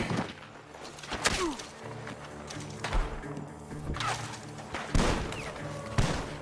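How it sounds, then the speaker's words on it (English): Several sharp, loud gunshots crack out at irregular intervals from a barn over a rumbling, busy Red Dead Redemption 2 game soundscape. "The gunshots are coming from that barn."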